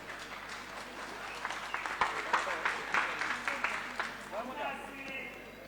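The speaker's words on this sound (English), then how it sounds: "A big round of applause for our Permanent Secretary in the House" A crowd at a boxing event in Zambia applauds the Permanent Secretary, a steady wash of clapping that swells and carries on over the murmur of the hall, with a voice on the public address.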